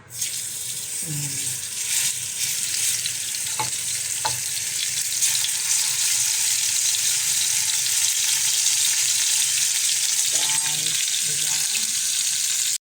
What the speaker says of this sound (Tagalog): Magprito na tayo sa ating steak.